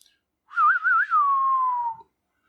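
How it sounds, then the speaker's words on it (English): A lone Western-style whistle, the cue for the Cranial Spike perk triggering in a video game. It is clean and close, warbling with vibrato at first and then sliding into a long, slowly falling note that stops after about one and a half seconds. "it has the old Western whistle when you proc it, when you proc cranial spike"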